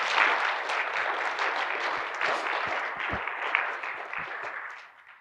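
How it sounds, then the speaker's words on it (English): A Sunday service congregation gives another round of applause, a dense sustained patter of many hands clapping at moderate loudness before tapering off at the end. "Let's have another round of applause for that."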